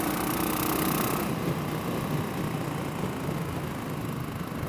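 Suzuki LS 650 Bobber motorcycle engine running steadily on the road while overtaking, a continuous mid-pitched drone with wind rush, fairly loud and constant throughout without talk.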